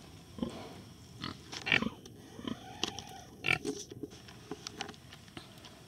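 A pregnant sow grunts and snuffles in a farm barn, a series of short, soft, irregular grunts spread over several seconds with quiet shuffling between them.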